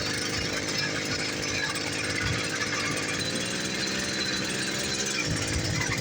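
A 50cc Chinese scooter engine strains up a hill, a loud, continuous, rattly buzzing drone close to the listener, steady and unbroken for several seconds.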